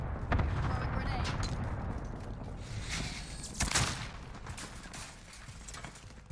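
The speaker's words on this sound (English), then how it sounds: "Throwing grenade." A grenade blast in the Warzone video game: a sharp boom stands out midway amid scattered gunfire and rumbling explosions, with a player's voice talking over the action.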